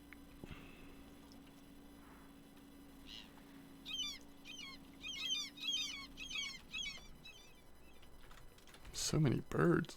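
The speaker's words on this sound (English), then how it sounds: "So many birds." Birds chirp and call in repeated bursts in the Russian Fishing 4 game world, moderately loud over a steady low hum, with a sharper burst of noise near the end.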